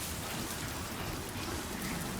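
Steady, dense rain falls in the video game Death Stranding 2, a constant hiss of drops with no break across the whole stretch and no voices.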